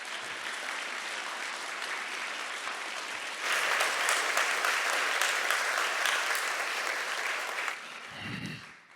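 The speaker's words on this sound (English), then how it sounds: "please give them a round of applause for this wonderful woman." Mourners at a memorial service applaud as a dense, steady wash of clapping that swells partway through, holds, and then fades out.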